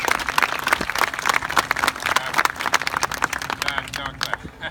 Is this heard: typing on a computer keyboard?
no